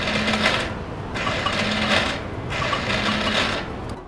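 A faulty electric starter motor on a scooter grinds and whirs in three repeated close bursts of about a second each, separated by brief pauses, with no voices.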